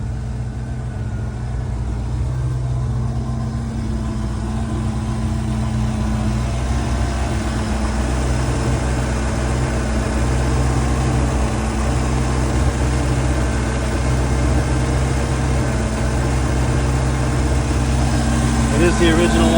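The engine of a 2003 Bayliner 215 bowrider idles on its trailer at about 1000–1100 rpm, a loud, steady low rumble that holds evenly throughout.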